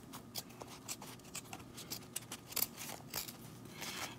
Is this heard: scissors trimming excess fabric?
yes